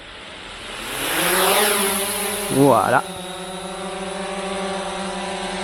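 Small JJRC X17 quadcopter drone motors arming and lifting off, a steady buzzing whine that rises in pitch and then holds level, with a brief louder burst midway and a short spoken word over it.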